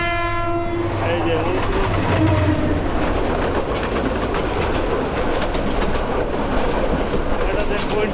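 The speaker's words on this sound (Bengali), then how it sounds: "ট্রেন স্লো হয়ে গেল" The crowded Chattala Express passenger train rolls along the rails with a steady loud rumble and clatter close by, a horn-like tone at the start as the train slows, with birds faintly audible.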